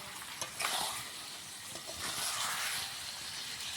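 Mutton and a few potato pieces fry in oil over a clay stove, a dense, steady sizzle and hiss with a brief stir near the start, close and continuous with no voices.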